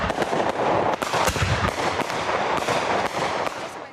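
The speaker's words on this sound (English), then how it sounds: "With the Independence Day fireworks in full swing" Independence Day fireworks burst in a rapid, irregular string of sharp cracks and booms, loud and close, with no talking.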